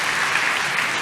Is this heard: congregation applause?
yes